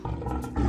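A lion gives a short, loud, rough roar, close and alone, lasting under a second.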